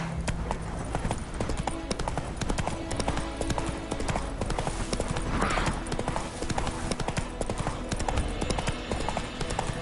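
Roach the horse galloping in The Witcher 3 video game, a rapid continuous clatter of hooves that stays close and loud throughout, with a brief voice heard over it.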